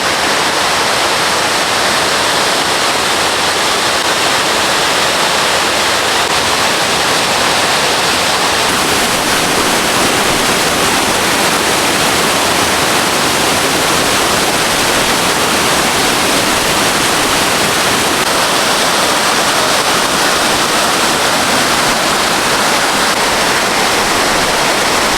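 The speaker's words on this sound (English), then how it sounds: "Beautiful waterfall." A loud, constant roar of Ramona Falls in Oregon, dense and unbroken from start to finish, with no voices.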